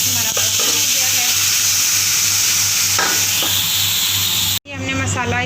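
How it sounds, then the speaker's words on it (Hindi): Ground masala frying loudly with browned onions in a pot for chicken yakhni pulao, a steady close sizzle with stirring scrapes, cutting off briefly near the end before resuming. "ये हमने मसाला इसमें डाल दिया है, इसको मिक्स कर दिया है। अब इसको थोड़ी देर भूनेंगे हम।"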